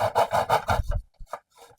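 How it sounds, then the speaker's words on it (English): A miter saw bites through wood in a small home workshop: a few seconds of pulsing rasping cut, then the blade winds down and stops, followed by faint clatter. "So here's my miter saw that's over here."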